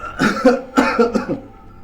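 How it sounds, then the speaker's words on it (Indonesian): A man coughs several times in quick, harsh bursts, close and loud, trailing off at the end. "Bapak lagi batuk"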